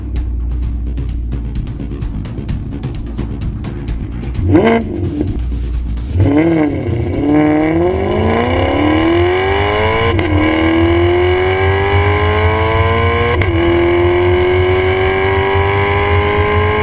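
A Maserati MC Stradale accelerating hard on the road, engine revving up through several gears with rising pitch sweeps and brief dips at each shift, loud and close from inside the car.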